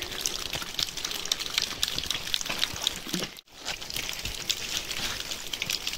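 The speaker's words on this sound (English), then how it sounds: "Got a nice water drip right here." Water drips and trickles from a rock overhang in Missouri, a steady close wash of splashing with a brief dip in the middle.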